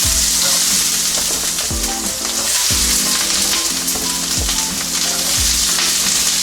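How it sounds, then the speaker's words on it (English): Chicken pieces sauteing in a hot oiled pan, a loud, steady sizzle and crackle running throughout, with recurring scrapes and knocks as the food is moved around, no talking. "Start sauteing."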